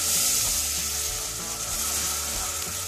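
Vinegar boiling in a pan of prawn pickle, a dense, continuous bubbling hiss with low bubbling underneath, steady and close.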